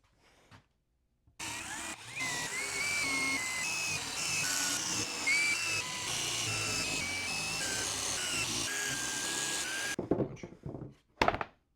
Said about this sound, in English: I drill down to it.